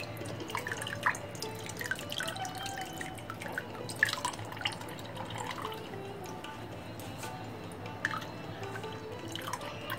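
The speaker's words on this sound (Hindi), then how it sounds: "अब इसको इस तरह से पकड़ के इसका पानी निकालेंगे।" Water drips steadily and irregularly from a squeezed cloth of fresh chenna cheese into liquid below, small plinks and patters over a low background hum, fairly close and soft.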